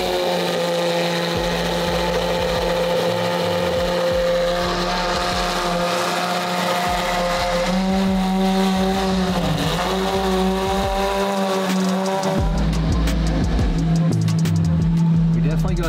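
A Lamborghini SVJ V12 engine idles loudly with a steady harmonic drone, its pitch rising and falling through several revs before settling back.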